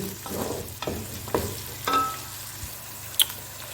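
Ginger and garlic sizzle in a hot pan while being stirred, with soft scraping strokes at a steady rhythm and a faint clink near the end.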